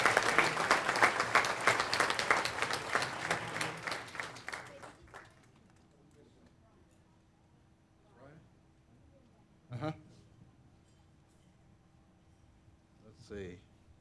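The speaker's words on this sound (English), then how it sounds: "Let's all give these students a round of applause." A room of guests at a business scholarship luncheon applauds students, a full burst of clapping that tapers off within a few seconds, leaving a quiet hall with a few faint scattered sounds.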